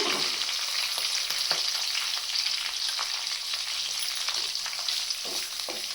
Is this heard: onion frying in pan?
yes